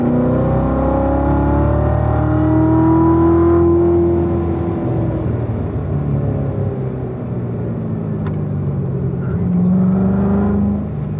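A car accelerates out of a corner on the Spring Mountain race track, engine note rising steadily under throttle, loud and close with a droning, whirring tone that climbs again near the end.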